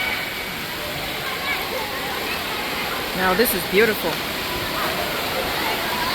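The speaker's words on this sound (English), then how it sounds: "The biggest indoor water park in Michigan." Constant rushing and splashing water fills a large indoor water park in Frankenmuth, Michigan, a loud, steady wash with brief louder splashes, while a person speaks over it.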